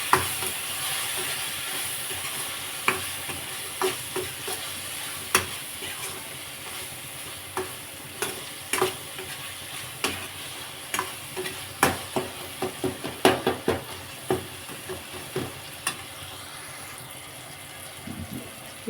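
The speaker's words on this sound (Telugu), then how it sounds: "కొంచెం పసుపు వేసుకొని ఒకసారి కలుపుకుందాం" Drumstick pieces fry in a pan as turmeric is stirred in, a steady low sizzle punctuated by a long run of sharp, irregular spoon-against-pan clacks and scrapes that grow busier midway.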